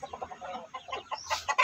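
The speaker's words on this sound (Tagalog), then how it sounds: "Yan, yung shamo asil natin na inahin." A shamo asil hen clucks close by in a series of short, uneven calls, and a few sharper, higher notes come at the end.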